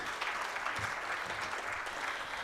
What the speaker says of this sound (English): Ladies and gentlemen, a bigger round of applause for Helen.